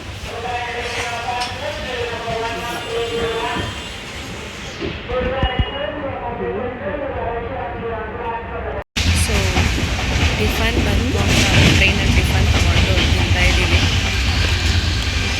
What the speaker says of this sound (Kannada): ಸೊ ಫೈನಲಿ ಟ್ರೈನ್ ಹೊರಟಿದೆ